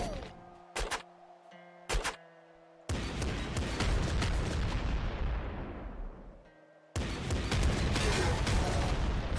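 Gatling bazooka fired in the top-down shooter Nuclear Throne: two short bursts, then long sustained roaring barrages of rapid rocket blasts and explosions, loud and dense with a brief drop in between.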